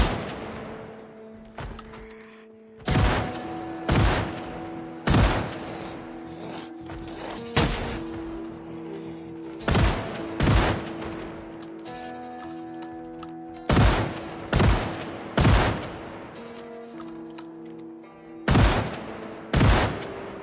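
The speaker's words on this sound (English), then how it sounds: "We want to give them a moment to group up so that we can get a good meat shot with the shotgun here." A shotgun fires at zombies in Project Zomboid, about a dozen loud booming blasts spaced a second or two apart, each with a short decaying tail over a low ambient drone.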